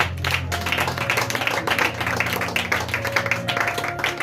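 A church congregation applauds the Lord in a dense, continuous burst of many hands clapping, loud and close throughout, with a faint background tone underneath.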